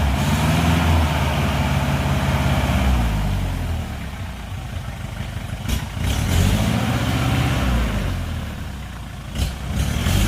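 Car struggling through a mud puddle on swampy oil palm plantation ground, its engine droning loudly and steadily with labored revving swells throughout, and no talk.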